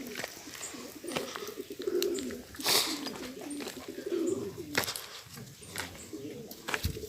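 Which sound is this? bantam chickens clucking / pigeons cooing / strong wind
pigeons cooing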